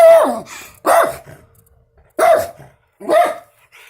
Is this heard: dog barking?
yes